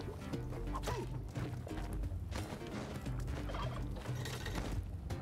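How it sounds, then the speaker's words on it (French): A turkey gobbles in the Spelunky 2 video game, heard within a busy, moderately quiet mix of game sounds with knocks and clatter. "La dinde."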